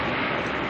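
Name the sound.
propeller aircraft NZ5223 from Whangarei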